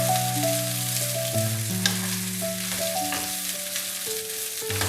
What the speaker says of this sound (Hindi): इसको हल्का सा सौते करेंगे